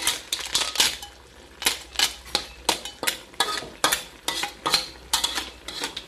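Snails are stir-fried with basil in a pan, with a utensil scraping and clattering against the metal in quick, irregular strokes and a soft sizzle underneath, close and without talk.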